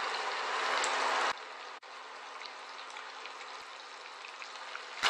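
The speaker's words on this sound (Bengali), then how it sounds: "এটাকে আমি ভেজে নেব।" Chicken nuggets frying in hot oil in a home kitchen, a steady dense sizzle and crackle that drops slightly in level partway through and then continues evenly.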